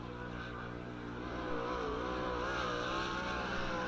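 A race car runs a time-trial qualifying lap at Lernerville Speedway, its engine droning steadily with a rising and falling pitch as it circles the track at a moderate distance.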